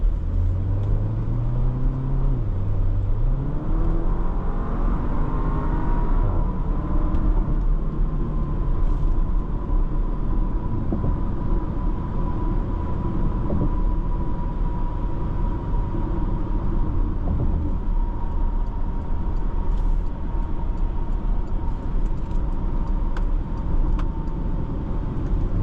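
A 2024 Porsche Macan crossover SUV is driven on the road, a steady low engine and road rumble with a gear-shift rise at the start and a constant drone thereafter.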